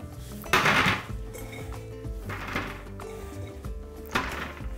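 Mushrooms tumble onto a silicone mat lying on an oven tray, three soft bursts of clattering rustle spaced a couple of seconds apart against a low room hum, no one talking.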